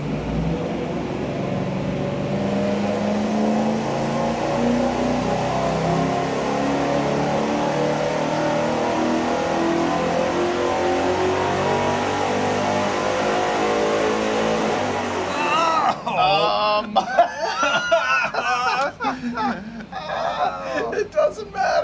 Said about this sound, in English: Here we go with our first test with that Y-shaped merge and the single 3-inch exhaust.